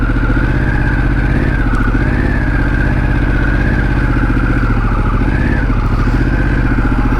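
A Harley-Davidson Pan America 1250 motorcycle engine drones loudly and up close while off-roading on a slippery, steep grade, with a steady throaty note and small revving swells throughout.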